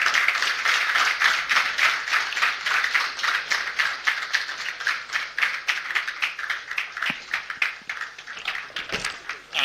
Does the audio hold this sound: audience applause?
yes